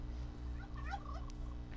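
Minecraft turkeys give quick, bubbling gobbles in a short burst over a steady low background hum.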